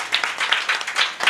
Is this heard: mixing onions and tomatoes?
no